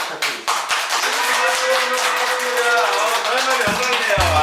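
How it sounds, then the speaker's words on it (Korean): An audience at a hair salon training event applauds in a dense, steady wash of clapping, loud and sustained, with a voice speaking briefly toward the end. "정말 감사한 박수 꼭 부탁드리겠습니다"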